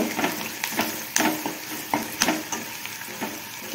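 Besan and a spoonful of poha are stirred in a hot pan for vangyachi bhaji, with quick, repeated scraping strokes over a bright, steady sizzle, up close and prominent, no voices.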